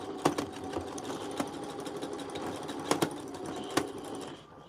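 Domestic sewing machine stitching a dress seam at half-inch allowance, a steady close motor whir with sharp needle clicks, a few louder knocks as the stitching direction reverses, running alone without talk.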